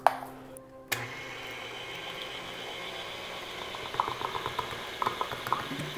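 An electric mixer whisks eggs, shortening and flour at low speed for donut dough, giving a steady whirring drone with faint clicks of the beaters against the bowl.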